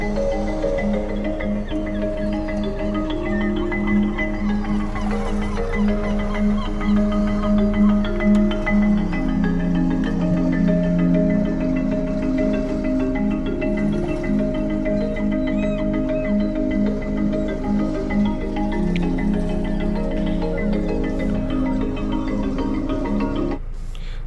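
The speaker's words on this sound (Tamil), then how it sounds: "ஸோ இதுதான் வந்து sounds of nature and போஸோடைய premium audio system." Nature soundscape of a sailing ship played through the Bose premium audio system inside a Hyundai Tucson SUV, a steady, full-bodied ambience with sustained tonal layers under a low rumble, even and continuous without speech.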